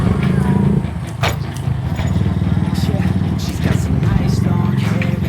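A manual-clutch motorcycle being ridden, with a steady droning engine note running throughout, close and fairly loud, with a few brief clicks and knocks over it.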